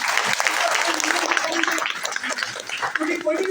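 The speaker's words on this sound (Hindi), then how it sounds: "तो हमारे फाउंडर साहब मिस्टर अंतरिक राणा जी के लिए मैं चाहता हूं एक बार जोरदार तालियां बजाएं" Applause from an audience at an Ayurveda company event in India, greeting the founder Mr. Antrik Rana: steady, dense clapping under a continuous speaking voice.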